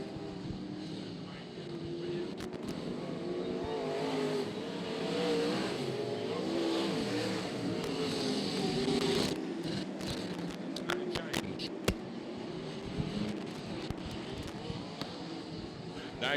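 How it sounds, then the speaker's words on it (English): Sprint cars race around Archerfield Speedway's dirt oval in a C-Main event, a continuous roar of engines rising and fading as the pack passes, with a commentator talking over the racing throughout. "Coming out of the 1-2 turns for the first time as Dan Murray drives away into the distance, going up the back straight away."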